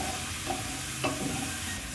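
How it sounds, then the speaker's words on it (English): Chopped onions sautéing in a pan while being stirred, a soft, quiet sizzle with light scraping and a brief clink near the middle. "So saute your onions until soft."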